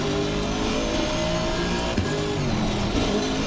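Aston Martin race car in Assetto Corsa Competizione climbing Eau Rouge, its engine holding a steady loud high-revving drone with no letup.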